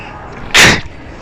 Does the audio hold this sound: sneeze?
yes